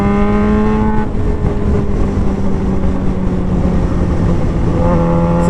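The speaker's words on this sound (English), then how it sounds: "So you can hear we're getting some popping and some backfiring" Suzuki GSX-R600 motorcycle engine with the decel fuel cut disabled, popping and backfiring off throttle; a loud, close rumbling exhaust with rapid crackles and shifting revs, heard alone.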